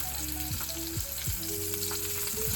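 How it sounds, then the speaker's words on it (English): Tuna pieces sear in a hot pot with a loud, steady sizzle close up, broken by a few sharp scraping clinks of a utensil against the metal. "So I'm going to get that to pan sear for us first."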